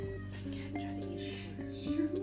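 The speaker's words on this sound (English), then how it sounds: "our cat tried to eat a quarter" A house cat gives a few short, faint meows against a quiet indoor background.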